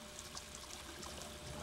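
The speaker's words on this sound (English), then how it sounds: "Don't you just love running water? It's like a little tiny waterfall with a tiny whirlpool." A kitchen-style tap runs in a faint, steady trickle and splash, a continuous hiss of falling water with no voices.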